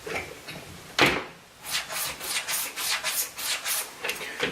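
A straight razor is stropped on a bridle leather strop in a quick series of soft rhythmic swishes, rubbing strokes back and forth, close and fairly quiet, with no voices.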